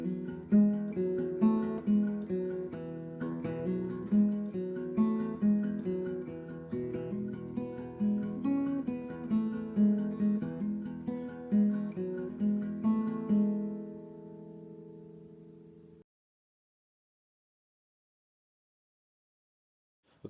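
Guitar playing the combined parts of a song, a steady picked and strummed pattern with sustained ringing notes that fades out and ends in silence.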